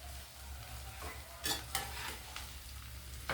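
Dry-roasted coriander and tomato chutney ingredients are stirred continuously in a pan, giving a steady soft hiss with a few sharp scrapes of the spoon, the last one loudest at the end.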